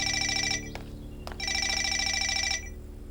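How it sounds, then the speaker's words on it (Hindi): A telephone rings in two bursts of electronic trilling separated by a short pause, close and clear, over a low background hum. "फोन बज रहा है, जरा देखो कौन है।"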